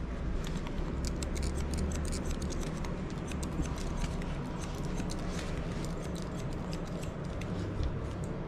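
Scissors snip hair in a fast, steady run of crisp close cuts during a fade haircut, continuing without talk.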